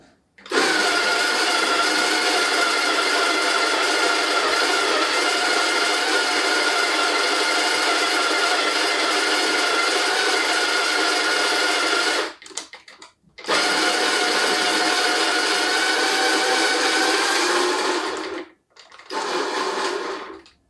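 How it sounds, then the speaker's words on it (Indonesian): An Almaz KG 586 semi-commercial coffee grinder grinds beans into a portafilter in a loud, continuous whir, stopping briefly twice before running again. "kita tunggu sampai dia selesai giling"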